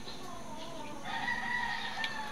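A pet rooster, recently recovered from illness, crows once from about midway, a drawn-out call that sounds moderately distant over a quiet background.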